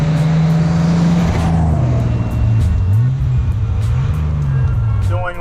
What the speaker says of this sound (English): I'm driving the customer's car, so it's not I'm not doing any drifting or anything like that